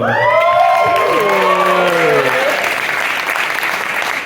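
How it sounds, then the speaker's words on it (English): Loud, sustained applause from a crowd, with cheering and whoops rising over it at the start, steady throughout. "I got my applause"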